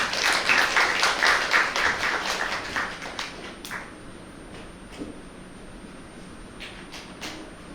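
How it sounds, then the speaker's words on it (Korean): An audience at a science forum on carbon neutrality claps for a speaker coming on stage. The applause is fairly loud at first, then fades after about three seconds, leaving a few scattered claps and taps in a quiet room. "여러분 박수로 응원해 주십시오."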